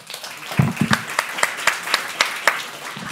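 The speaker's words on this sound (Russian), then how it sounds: "І гэты аплодисменты для вас." Audience applause at a business support presentation event, a burst of clapping starting then settling into sparse, distinct individual claps, fairly close, with no speech.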